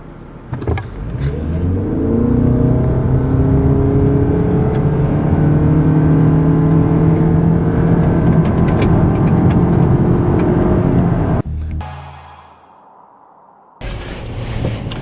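A 2013 Lexus sedan engine builds from a low drone to a rising roar accelerating from 0 to 60 mph, loud and sustained, then drops away abruptly.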